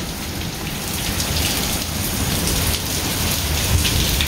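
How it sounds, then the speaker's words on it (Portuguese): Heavy rain pours down during a night thunderstorm in southern Brazil, a loud, steady hiss of drops hammering surfaces that swells slightly and runs unbroken, with no voices over it. "Olha que chuva."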